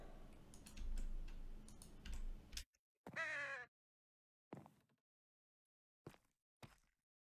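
Crows from a Minecraft crows mod cawing, one harsh caw standing out among a few short clicky blips and a burst of noise, fairly quiet.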